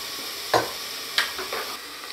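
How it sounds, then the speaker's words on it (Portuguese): Chopped onion, garlic and tomato fry in a pan, a steady soft sizzle broken by a couple of sharper stirring scrapes, close and alone with no talking. "Eu gosto tanto do cheiro de cebola frita com alho, tomate. Bom, vou deixar fritando aqui um pouquinho."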